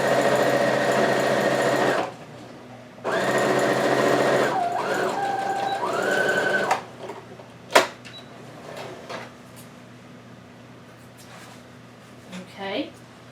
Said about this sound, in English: I'm going to start there and sew that side